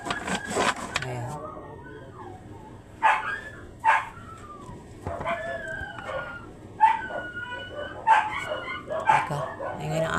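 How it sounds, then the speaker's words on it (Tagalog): A dog barks in several separate bursts a few seconds apart, fairly close, with a person talking in between. "Teka, ingay ng aso."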